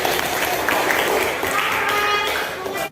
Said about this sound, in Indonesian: tepuk tangan untuk kelompok yang terakhir